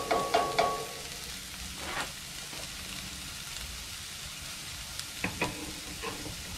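Celery sizzles in a cast iron skillet on a Camp Chef camp stove, a steady frying hiss broken by a few sharper crackles and stirring scrapes near the start and end.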